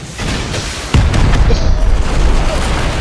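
A rocket from Rust slams into a Chinook helicopter, landing as a single loud, close boom that hits sharply and then rolls into a rumbling, crackling tail.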